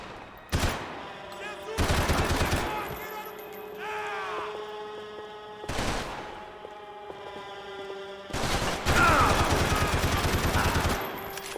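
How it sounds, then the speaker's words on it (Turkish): Gunfire in the Max Payne 3 video game: loud bursts of shots in several bouts, rapid crackling volleys separated by short pauses, with a faint voice in the background. "Attığım mermi böyle leblebi gibi geri sekiyor."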